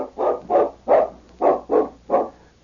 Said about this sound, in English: The great dog ran across the clearing, a flash of silver in the moonlight